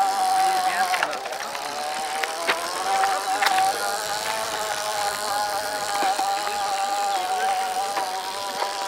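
A small trial motorcycle engine drones steadily at a trials school, holding a high buzzing pitch that rises only slightly, loud and close throughout.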